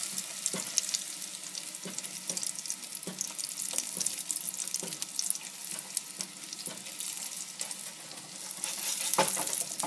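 Egg-battered chile relleno browning in hot oil in a pan, a continuous crackling sizzle with frequent small pops and spatters throughout, close and moderately loud, no talking.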